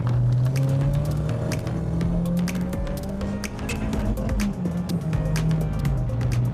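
Renault Clio Williams 2 hatchback driven fast, its engine droning steadily from inside the car with a wavering pitch as it accelerates and eases, with road and tyre noise underneath.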